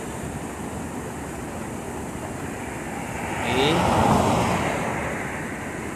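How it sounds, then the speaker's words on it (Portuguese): Water pours down the spillway of the Araçagi dam in Paraíba after heavy rain, a broad steady rushing roar that swells for a moment partway through, with a brief voice. "bastante água descendo aí pelo sangrador da barragem"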